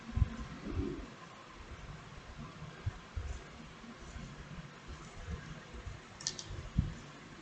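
A computer mouse gives a few faint, isolated clicks at irregular intervals during a software installation, heard up close against a quiet room background.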